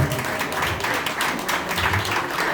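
At an Istanbul winter evening dance event, an audience claps steadily in a dense, moderately loud burst that holds evenly for a few seconds with no voices standing out.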